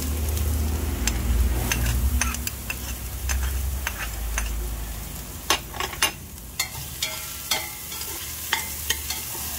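Onions or shallots frying in a pan for batchoy, a steady close sizzle with scattered ticks and scrapes of stirring, the sizzle easing partway through while sharp utensil taps continue; no talking.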